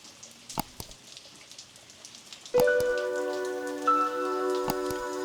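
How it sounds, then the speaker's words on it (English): Steady rain patters continuously on a surface, with a few sharper drops, joined partway through by a sustained tonal hum underneath. "we wake the next morning to a consistent rain."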